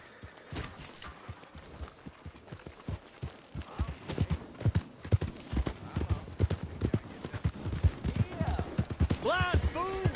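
Horse hooves galloping in the video game Red Dead Redemption 2, a quick rhythmic clip-clop that grows louder and denser, with voices talking over it and a short neigh near the end.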